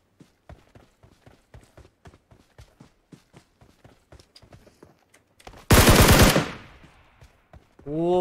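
BGMI mobile battle royale gameplay: a steady run of quick rhythmic footstep-like taps, then a loud burst of gunfire near the end, followed by another rising blast.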